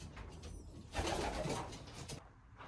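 Pigeons coo in soft, rolling throaty calls close by, one fuller burst rising in the middle before fading, with quieter background rustle around it.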